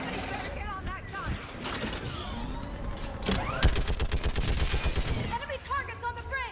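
Mounted gun firing in the video game Mass Effect 3 during a bridge battle, a rapid string of loud shots in the middle of the clip amid clattering mechanical game noise, with voices calling out over parts of it.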